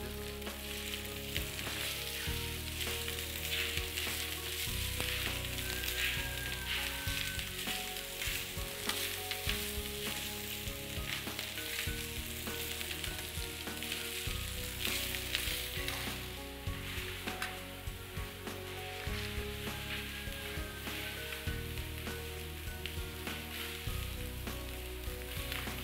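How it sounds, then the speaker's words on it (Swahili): Rice frying in a hot pan with thyme and oregano for Chinese fried rice, a steady dense sizzle with stirring scrapes running continuously and loudly throughout, with no talking. "Sasa tutaweka mchele, tutakanga pamoja, kaanga na mchele pamoja."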